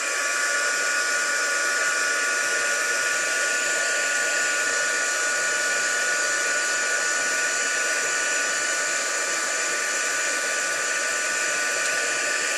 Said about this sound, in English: because my heat gun has only got one setting, I heat set it from the back so I don't scorch anything